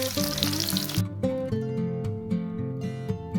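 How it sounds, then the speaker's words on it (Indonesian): Shallots sautéing in hot oil, a steady close sizzle with occasional stirring clicks, loud at first then settling into a continuous frying hiss. "Pertama kita panaskan minyak secukupnya. Kemudian kita tumis bawang merah sampai wangi."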